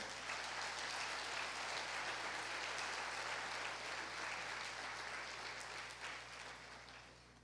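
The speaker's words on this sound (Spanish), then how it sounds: "Dale un fuerte aplauso al Rey." Congregation at a family church service giving a strong round of applause, a dense wash of clapping heard from a distance that holds steady and then fades toward the end, with a low hum underneath.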